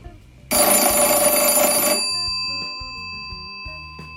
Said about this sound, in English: the corresponding bell on the panel would chime or its indicator drop